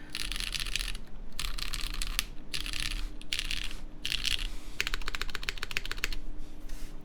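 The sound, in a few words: typing test on a Sensy Lab Smoke 65% keyboard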